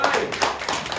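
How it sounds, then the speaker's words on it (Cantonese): Congregation applause during a church sermon service: dense, steady clapping from many hands filling the whole second at a close, even loudness. "掌聲啊，掌聲啊！"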